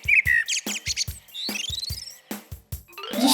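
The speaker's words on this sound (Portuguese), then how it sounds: "É um passarinho." Small bird singing in short chirps and trills, a string of quick bursts with brief pauses and one longer rising, warbling phrase near the middle, close and fairly clear.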